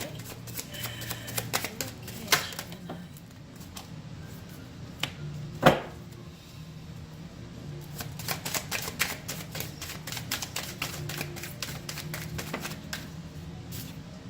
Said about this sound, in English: I usually just shuffle these cards until they fall out organically